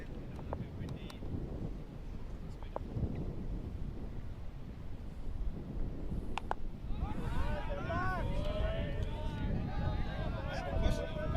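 Wind gusting across an outdoor cricket ground, a steady rumbling buffet against the microphone, with a commentator talking over it and a brief tonal chatter near the end.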